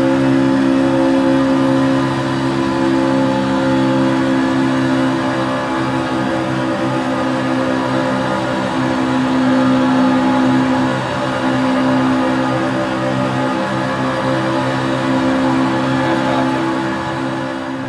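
Racing truck engines in an iRacing replay at Daytona drone steadily and loudly with sustained harmonic tones, a continuous pack of engines holding high revs with slight swells, and no talk over them.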